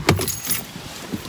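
Car keys jangle in a quick metallic rattle near the start, followed by softer handling noises and a low background hum.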